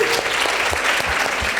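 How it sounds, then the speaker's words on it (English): Audience applause rings out at a panel discussion on covering Israel and Gaza, a dense steady wash of clapping that stays loud and continuous throughout, with no speech over it. "Applause for Mohammed"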